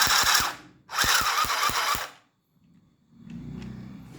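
A portable cordless stitching machine whirs in two close, steady bursts with a fast mechanical pulse, then stops; a softer, lower hum follows.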